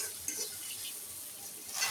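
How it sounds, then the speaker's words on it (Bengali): Onion sizzling in hot oil in a pan, a steady crackling fry with light stirring, close and moderately loud. "তারপর একটু নাড়াচাড়া করে পেঁয়াজটা ভেজে নেব"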